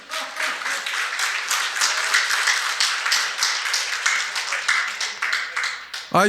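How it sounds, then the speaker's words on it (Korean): Audience of older attendees at a seminar on smartphone use claps together in a brisk, rhythmic pattern, a steady and fairly loud round that continues alone and stops abruptly at the end. "박수 부탁합니다."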